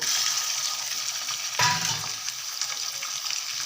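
Chicken liver frying in a pan with garlic-chili masala, a steady loud hiss with a sudden burst of sizzle midway as the pieces hit the oil, plus stirring scrapes.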